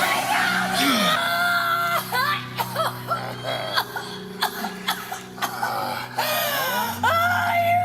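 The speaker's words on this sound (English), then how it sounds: "that's a pretty good scream" A woman screams in a 1970s extreme horror movie: harsh, strained vocal cries break into a series of short gasping and coughing bursts, loud and close.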